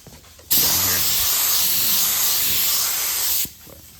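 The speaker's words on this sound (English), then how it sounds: "that's how I spray the primer and mix it." A cheap HVLP spray gun sprays Rust-Oleum rusty metal primer onto metal, a loud, steady hiss that starts abruptly and runs for about three seconds before cutting off, with faint background sound on either side.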